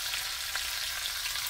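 Onions added to bacon frying in a pan over medium-low heat, a bright continuous sizzle with faint crackling pops and light stirring, close and steady with no talk.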